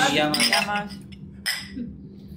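Wine glasses clink together in a toast beside a wood-fired oven, with two bright, close clinks, one early and one about a second later, over voices and table chatter.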